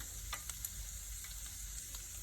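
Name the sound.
beef goulash frying and sizzling while being stirred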